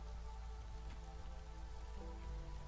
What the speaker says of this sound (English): There's something about the rain and the ambiance of this that I find very relaxing